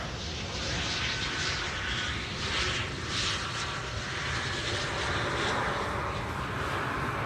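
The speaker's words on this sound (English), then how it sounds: "On the mic, you might pick up the now landing Embraer." An Embraer airliner lands on Schiphol's Polderbaan runway 18R, its engines a broad, steady roar that fills the whole span with slight swells in loudness and no quiet gaps.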